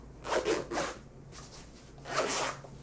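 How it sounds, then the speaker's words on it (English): Zipper on a small carrying case for a Hollyland Lark M1 wireless audio system, pulled in three quick, close rasping strokes with short pauses between them and no voices. "Got a nice zipper."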